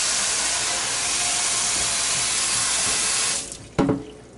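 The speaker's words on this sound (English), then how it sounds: "going to rinse this out" Tap water runs steadily into a sink while a stainless steel skillet is rinsed, a close continuous hissing splash that cuts off near the end, followed by a couple of brief clanks of the pan.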